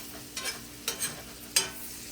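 Nuts toasting in a pan over low heat for breakfast tacos, a gentle background sizzle broken by a few scraping stirs of the pan, the last one the sharpest, close and quiet.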